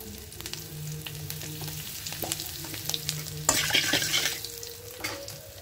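Asafoetida dropped into hot oil in a pan for a potato curry, soft sizzling with a sudden louder burst partway through and repeated scraping taps of a spatula as it is stirred.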